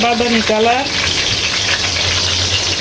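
Spice paste and onions fry in a pan with a continuous sizzle while being stirred. A short burst of voice comes at the start, then scraping and sizzling continue alone.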